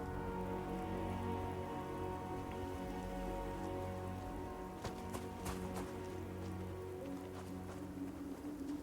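Steady rain falls across an outdoor landscape in the video game Starfield, a dense, even patter of drops on surfaces that runs throughout at moderate distance, with a few sharper splashes and knocks standing out midway and no talk.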